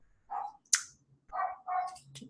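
A neighbor's dog barks outside, heard as a few short, muffled, distant bursts with quiet gaps between them and a sharp click in the middle.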